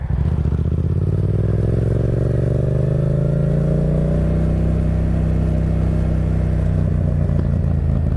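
A motorcycle is throttled open hard, its engine rising in a loud, continuous roar that climbs in pitch and holds close by, with no talking.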